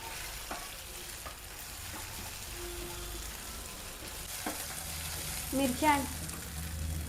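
Chopped onion and green chili fry in a pan for a dried-fenugreek (sukhat methi) dish, giving a steady, close sizzle with occasional scraping stirs and a couple of louder clatters near the end.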